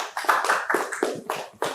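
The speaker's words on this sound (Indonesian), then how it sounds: "Tepuk tangan dulu untuk Berta." Students in a classroom applaud a classmate, with a short burst of many hands clapping in uneven, overlapping claps for under two seconds.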